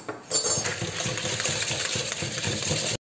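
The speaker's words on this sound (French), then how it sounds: "Je mélange." A utensil clinks and scrapes against a bowl while milk, water, yeast and sugar for pizza dough are stirred, a steady close rhythm of small metallic taps that stops abruptly at the end.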